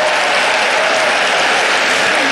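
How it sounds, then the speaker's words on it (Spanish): Audience applause at a talk on public education, a loud dense burst of clapping from a crowd filling the whole moment without pause. "Un aplauso para usted."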